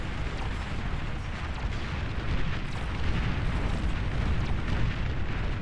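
A Mammoth unit blown apart in the real-time strategy game Beyond All Reason, heard as a dense, continuous roar of overlapping explosions and rumbling booms with no pauses.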